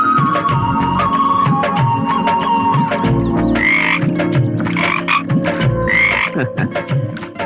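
Frogs croak loudly and repeatedly in dense, overlapping calls with buzzy, rasping pulses; the chorus keeps up steadily for the whole stretch, with no talk.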